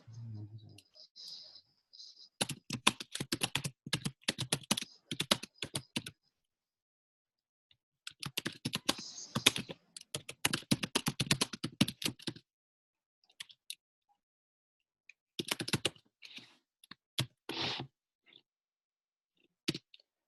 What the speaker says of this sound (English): I'm a slow typer here.